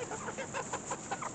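Backyard chickens clucking up close, a busy run of short, overlapping clucks and murmurs in steady succession with no voices.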